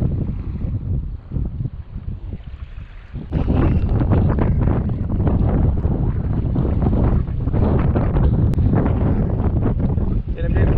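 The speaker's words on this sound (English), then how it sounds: "There were strong winds coming up, there was a lot of chop" Strong wind buffets the microphone with a constant roaring rush over choppy water on Lake Alabaster, Fiordland, growing heavier partway through, while voices speak beneath it.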